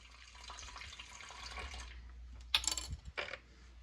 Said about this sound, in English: So to this, I'm going to add 5 tablespoons of water.